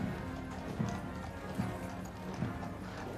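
Horses' hooves clip-clop steadily along the road as the Blues and Royals pass with the drum horse and state trumpeter in a state funeral procession toward Wellington Arch and Hyde Park Corner, a dense rhythmic patter over crowd ambience.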